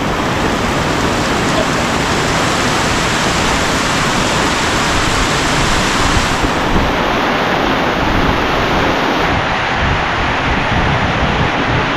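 Strong mountain stream rushing loudly and steadily during heavy rain, a dense, continuous roar of water close by with no voices.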